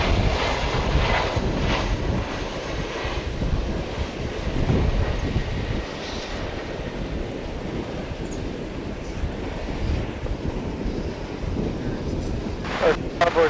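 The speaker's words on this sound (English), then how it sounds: "That's the Lufthansa A340, which just took off for Frankfurt from the east side of the airport." A Lufthansa Airbus A340 jet roars steadily after takeoff from the east side of DFW Airport, a broad continuous engine rumble mixed with wind buffeting on the microphone, loud and sustained throughout.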